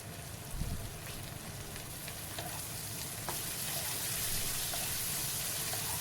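Beans and eggplant pieces frying in a pan with turmeric, a steady close sizzle with scattered crackles and the occasional scrape of stirring throughout.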